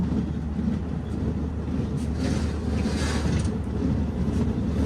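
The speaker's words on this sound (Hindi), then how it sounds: "दूसरी ट्रेन हमारे जो सामने से होके गुजरती है" A train rumbles past in falling snow in Kashmir, a steady, close, low roar with rushing wind noise throughout and no talking.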